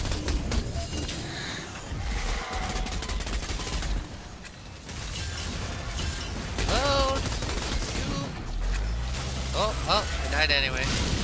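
Gunfire in the Outriders shooter during a solo Tier 6 boss fight, repeated shots and bursts under steady talking, with sharp electronic effect sounds near the end.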